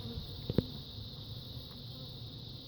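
Steady insect buzzing of many honeybees hums throughout, fairly close, with a couple of brief knocks near the start and no talking; outdoors while hive frames are cleaned.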